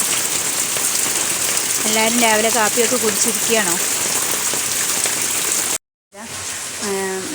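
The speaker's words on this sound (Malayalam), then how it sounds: "എല്ലായിടത്തേക്കും ഉണ്ടെന്ന് തോന്നുന്നു മഴ" Steady rain pours down close by in a dense hiss, while a voice speaks briefly over it twice.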